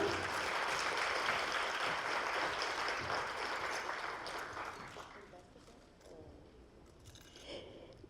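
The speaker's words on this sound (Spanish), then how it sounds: "Un aplauso, por favor." Audience applause for a panel speaker at a technology event, a dense broadband clapping wash that starts loud and steadily tapers off over several seconds, fading to scattered claps near the end.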